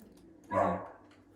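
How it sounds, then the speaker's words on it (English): A pet dog gives one short, muffled bark in a room, heard at a moderate distance over a low steady background hum. "I'm gonna go quiet my dog down"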